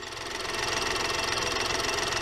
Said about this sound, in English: as you can hear over the traffic, obviously, is the engine is running sweet as a nut